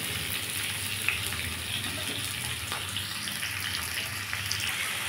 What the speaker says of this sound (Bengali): দিয়ে ভালো করে ভেজে নেব আলু, পেঁয়াজ, টমেটো